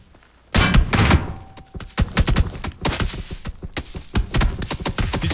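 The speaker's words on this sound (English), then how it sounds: "Did you hear the 3 to 4 pan shots back to back to back to back to back?" Rapid gunfire from a cheating player's weapon in PUBG cracks out in dense back-to-back bursts, loud and close, with a longer burst up front followed by continuous quick shots.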